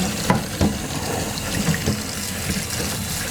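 Water pours steadily over giant bamboo shoots at a forest cooking spot in Japan, a close, continuous splashing gush with a few brief knocks, and no speech.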